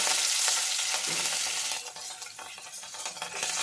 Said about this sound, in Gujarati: તેલ ફૂલ ગરમ થઈ ગયું છે રાઈ જીરું તતડી ગયું છે